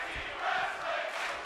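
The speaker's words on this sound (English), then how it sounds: "The crowd is getting behind this match" A tag team pro wrestling crowd roars in a dense, sustained wash of cheering and shouting that swells slightly midway.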